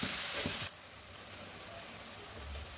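A chana dal masala base of softened tomatoes with kitchen king masala sizzles in a pan as it is stirred. A louder burst of sizzle fades to a steady, soft frying hiss, close by and without speech.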